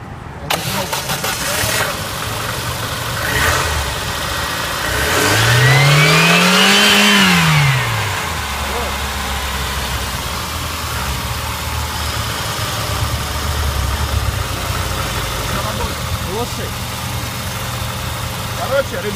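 A VAZ 2114 car engine, just fitted with a new timing belt, fires up and revs loudly once, its pitch rising and falling, then settles to a steady idle while people talk nearby.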